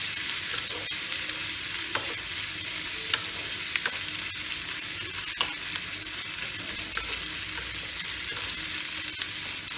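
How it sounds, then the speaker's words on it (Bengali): Onion frying in oil for a Bengali fish curry, a continuous bright sizzle with occasional stirring scrapes and taps, close and steady throughout. "তাহলে এটাকে পেঁয়াজটাকে যে একটুখানি ভাজা হয়ে যাবে"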